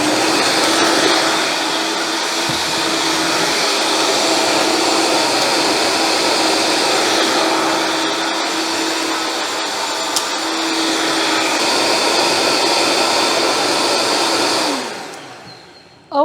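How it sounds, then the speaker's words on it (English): A blender whirring through almonds and water for almond milk, a loud, steady high-pitched motor roar that holds evenly for about fifteen seconds before winding down and stopping. "we're going to blend this up for about 30 seconds"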